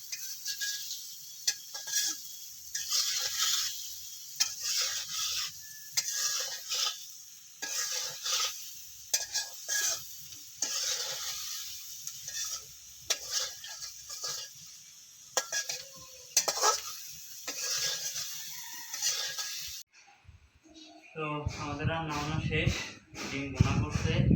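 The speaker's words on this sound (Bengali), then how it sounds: "বাবা আবার এই পাশে ডিম বোনা করার জন্য সব কিছু চুলাই দিয়ে দিছে করতেছে" Eggs frying for egg bhuna in a pan on a home gas stove, with steady sizzle and repeated scraping stirs near the mic, someone talking over much of it before a louder burst of clatter at the end.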